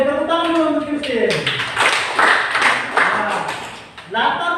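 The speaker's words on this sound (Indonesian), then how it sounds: "Tepuk tangan dulu untuk Christine" Classroom applause for a student named Christine: a dense patch of clapping swells in the middle and fades again, mixed in with a speaking voice before and after.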